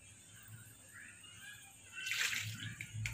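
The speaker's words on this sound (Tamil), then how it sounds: "ஒரு டம்ளர் தண்ணி சேர்த்துருக்கேன்." Water from a tumbler is poured into a pot of vatha kulambu, first a soft trickle and then a louder splashing gush near the end, close and alone.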